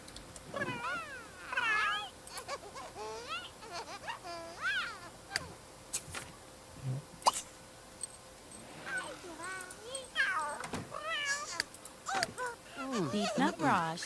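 Cat meowing repeatedly in The Sims 3 life-simulation game, several wavering meows spread through the scene over background game sounds and occasional clicks.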